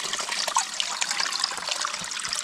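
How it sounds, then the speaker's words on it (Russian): A small river cascades over a little waterfall, a close, steady bright splashing and gurgling rush of water with no talk. "вот стекает вот эта река небольшим каскадом водопада"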